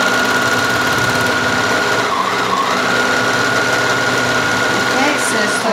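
An overlocker serger stitching fabric around a curve: a continuous fast mechanical whirring hum with steady motor drone, close and loud, with people talking faintly over it.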